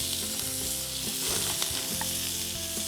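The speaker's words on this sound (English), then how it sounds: "they get that lovely smokiness from the sizzle" Fish kebabs basted with an olive oil mixture sizzle steadily on a hot grill, a constant bright crackle with scattered pops and no voices.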